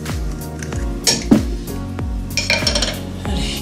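Kitchen work while a lemon vinaigrette is made: dishes and cutlery clink and knock close by in a busy, irregular series of sharp contacts, with a steady background hum underneath.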